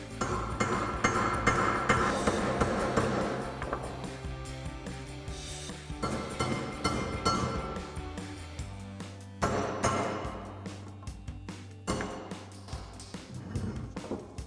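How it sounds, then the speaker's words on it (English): A hammer repeatedly strikes a chisel on metal while removing a brake rotor from a 2014-2018 Silverado or Sierra 1500, sharp ringing clanks arriving in uneven bursts with a metallic resonance, close and loud, with a low hum underneath. "I'm gonna grab a chisel and a hammer."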